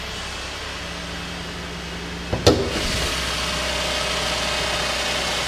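The 3-liter V6 of a 2010 Buick LaCrosse runs at a steady idle, a low even hum with faint whine, broken once by a brief clunk partway through.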